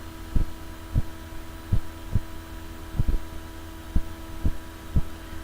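Regular deep thumping pulses, about one per half second, over a low steady machine hum of a pants pressing machine vacuum drying, with no talking.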